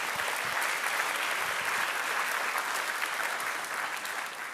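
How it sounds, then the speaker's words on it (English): A church congregation claps steadily for several seconds, a dense, sustained round of applause that fades slightly toward the end. "let's give Connor a round of applause there"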